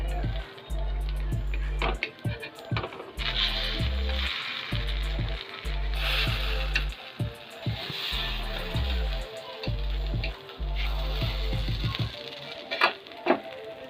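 A sweet appam cooks on a hot pan after being flipped. A soft, steady sizzle runs throughout over a rhythmic, pulsing low drone.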